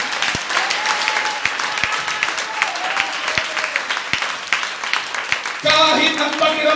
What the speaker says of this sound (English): Can we give him a hand clap of worship?